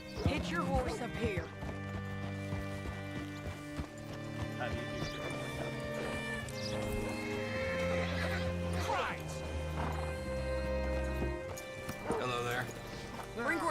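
In the video game Red Dead Redemption 2, a horse whinnies and its hooves clop, heard under a voice talking and steady background music.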